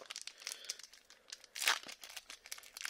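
Foil Pokémon booster pack, a Paradox Rift pack from a Pokébox, being torn open by hand: close, crinkly crumpling and ripping in a steady run of bursts, with one louder tearing rip near the middle, no talk.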